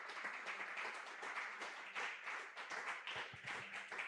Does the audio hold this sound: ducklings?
no